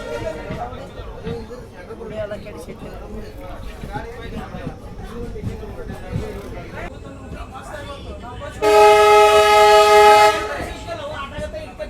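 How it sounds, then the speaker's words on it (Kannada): A train on the new Kushtagi–Hubli line pulls into Linganabandi station with a steady close rumble, a loud sustained horn blast near the end, and someone talking throughout. "ನಮ್ಮ ಟ್ರೈನ್ ಸದ್ಯಕ್ಕೆ ತಲುಪಿದೆ ಲಿಂಗನಬಂಡಿ ರೈಲ್ವೆ ಸ್ಟೇಷನ್ಗೆ."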